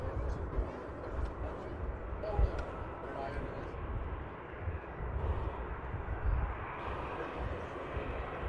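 A Ryanair Boeing 737 from Dublin touches down at Manchester Airport, its engine roar a steady broadband rush held throughout, with brief louder bumps and speech over it.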